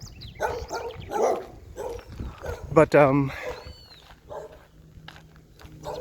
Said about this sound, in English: But another friendly dog, 2 dogs actually.